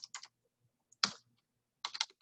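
A computer keyboard is typed on in three quick bursts of clicky keystrokes, close and crisp, separated by short silent gaps.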